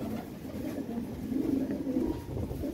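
Lahori pigeons cooing in a loft, a continuous low throaty murmur of several birds close by, swelling slightly in the middle.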